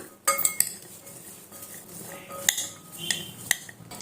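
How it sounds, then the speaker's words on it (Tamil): A spoon clinks against a metal bowl while mixing beach-style masala peanuts, scattered sharp taps and scrapes close by over a soft rustle of coated nuts, no talking. "சேர்த்து எல்லாத்தையும் கலந்து விட்டுறலாம்."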